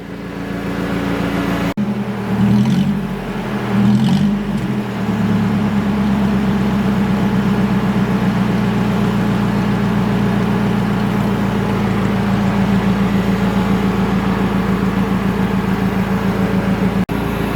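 Car cooling fans running on high in a Mercedes-Benz, a loud, steady whirring drone with low engine hum beneath, a few brief thumps near the start, then continuous and unchanging.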